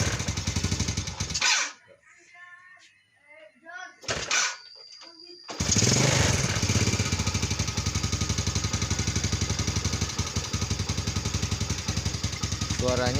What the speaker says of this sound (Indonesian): Setelah hidup ini motor suaranya kletak-kletek di bagian mesin ya, di bagian depan.